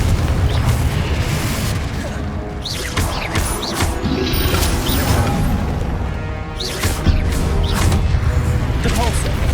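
Repeated blasting-spell explosions from the Confringo curse in Hogwarts Legacy, booming bursts over a dense, busy combat mix, with a voice calling out spell names throughout.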